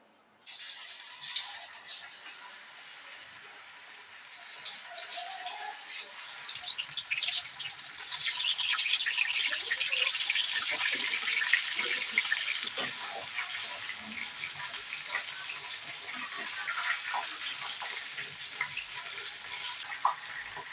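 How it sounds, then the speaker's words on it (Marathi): Soya chunks frying in hot oil, added one at a time, giving a steady hissing sizzle that swells after a few seconds and carries on evenly with small crackles throughout. "तर बघा भाजताना तुम्हाला असा आवाज येत असणार आहे म्हणजे पाण्याचा कसा आवाज येतो तेलामध्ये टाकल्यानंतर"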